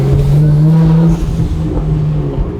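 A car's engine revs loudly and steadily as the car pulls away, a sustained droning tone that holds, dips briefly, then continues with road rumble underneath.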